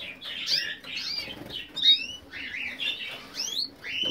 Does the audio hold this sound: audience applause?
no